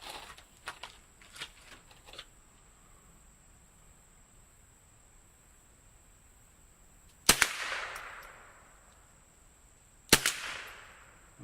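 Two sharp, loud rifle shots fired outdoors about three seconds apart, each with a long rolling echo decaying behind it, preceded by a few faint clicks and handling noises.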